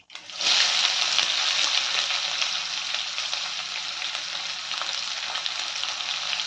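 Two onions frying in a pan for a curry-leaf kuzhambu, a loud steady sizzle that rises sharply at the start and then holds, close by with no talk.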